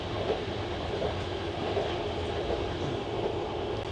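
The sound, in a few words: train running on rails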